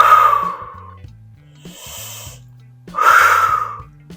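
Forceful, audible exhales and inhales during a Pilates workout, two strong breath bursts with a softer breath between, close, over a steady beat of background music.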